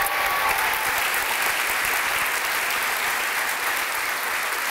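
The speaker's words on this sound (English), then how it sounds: "give our student speakers another round of applause" A graduation audience at a midyear completion celebration claps for student speakers, with steady, sustained applause filling the hall throughout.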